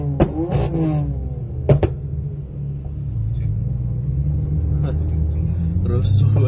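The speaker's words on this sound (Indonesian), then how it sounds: "Rusuh banget knalpotnya." A BMW M4 Stage 2 with a full Akrapovic exhaust rumbles loudly and revs with sharp pops, a deep throaty drone under people talking nearby.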